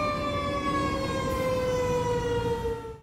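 Emergency vehicle sirens wail without a break on the I-64 interstate while responding to a multi-vehicle fire crash, a loud steady tone with a heavy traffic rumble beneath.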